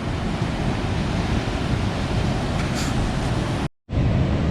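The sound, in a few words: sea waves crashing against a sea wall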